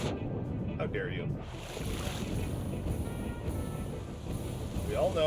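A video game waterfall makes a continuous, broad rushing wash of falling water that stays fairly loud and steady throughout, with slight surges in intensity.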